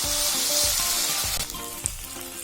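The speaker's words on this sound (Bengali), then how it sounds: "2 ছোট টমেটো কুচি করে রেখেছি সেটা দিয়ে দিচ্ছি ও আবার একটু সতে করছি।" Chopped small tomatoes sauté in an oily pan for a UP-style potato and green pea curry, giving a steady close-up sizzle with faint stirring scrapes, with no voices.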